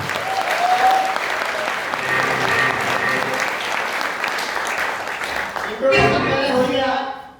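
Loud, dense applause from an audience at a seminar in Greater Noida, steady clapping for several seconds that swells again near the end.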